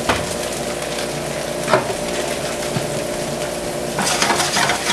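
Butter sizzles and bubbles in a hot pan for a striped bass sauce, a close, even frying hiss broken by a couple of stirring scrapes and a louder spurt of crackling near the end.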